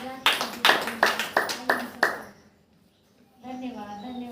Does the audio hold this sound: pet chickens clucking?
no